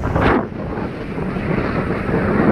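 Heavy wind roars against the microphone in a constant rumbling gust. Louder bursts rise at the start and near the end.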